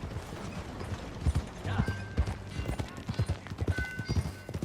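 Horse hooves clip-clopping during a ride in the video game Red Dead Redemption 2, steady rhythmic hoofbeats with faint tack and mechanical rattles, moderately near and fairly soft.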